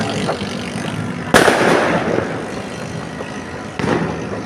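Fireworks bursting during a New Year countdown into 2024, two sharp loud bangs with crackling tails over a background of continuous distant popping, and faint voices in the background.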